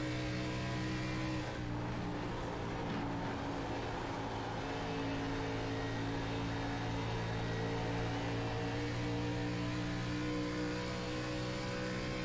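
A steady, droning ARCA race car engine hums at constant pitch from onboard as the car slides around Dover's track, faintly muffled, with no voices.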